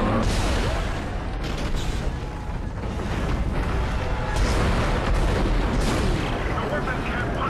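Sustained, loud weapon fire rumbles through a tense fight in the sci-fi horror game Dead Space, dense bursts and booms filling the whole stretch with a thick, unbroken roar.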